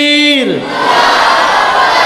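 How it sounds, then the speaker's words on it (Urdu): A large crowd at a religious gathering roars back the response to the Takbir slogan, a loud massed shout that swells and holds, following the tail of a single voice's rising then falling call. "زیادہ بلند آواز سے نعرے کا جواب دیجئے گا"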